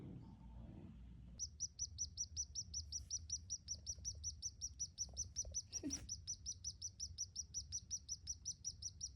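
A tiny baby bird that fell into a fireplace chirps in a fast, regular series of thin, high peeps, soft but clear over a low background hum, with a brief rustle midway.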